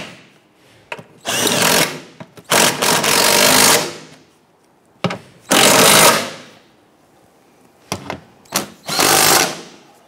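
A power ratchet or impact tool tightens the downstream O2 sensor fasteners on a 2011-2021 Jeep Grand Cherokee 3.6L V6, running in several loud, close rattling bursts with short pauses between them.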